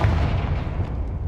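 Confringo blasting spell explosion in Hogwarts Legacy, a single deep rumbling boom that swells at once and rolls on loudly for over a second without clear breaks.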